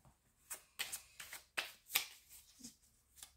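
Tarot cards being shuffled by hand, giving a series of crisp, close riffling snaps and flicks in an uneven rhythm against near silence.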